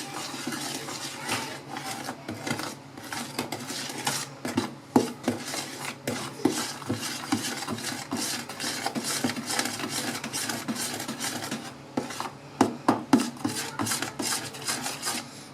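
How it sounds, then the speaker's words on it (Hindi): Three beaten eggs are stirred with vanilla essence in a bowl, giving a steady run of close clinking and scraping from utensil against the bowl, with sharper taps near the end and no speech. "अब इसके अंदर हम वनीला एसेंस डालेंगे, और इसे मिक्स कर लेंगे।"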